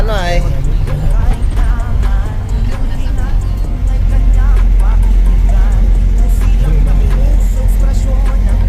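Road traffic on a route used by vehicles travelling to Luzon and Visayas: loud, close engine rumble and passing motor noise under voices talking.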